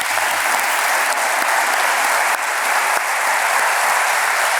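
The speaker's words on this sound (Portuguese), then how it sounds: "pedir uma grande salva de palmas a cada um de vocês" Steady, dense applause from a large audience at a Faz Acontecer talk in Portugal, sustained evenly for several seconds with no talking over it.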